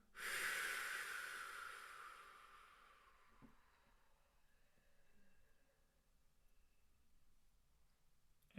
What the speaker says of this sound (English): So let's everyone just start exhaling again